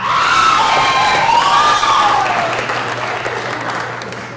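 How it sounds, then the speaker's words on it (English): A graduation crowd applauds and cheers loudly in a large hall, with dense sustained clapping and high shouts and whoops that gradually fade toward the end. "the people in line are cheering for each other in this program"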